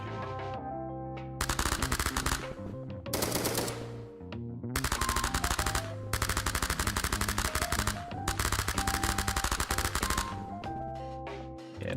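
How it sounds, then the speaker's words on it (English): Rapid automatic fire from an SMG in a video game, several loud sustained bursts with brief pauses between them, layered over a steady musical tone bed. "That's the SMG."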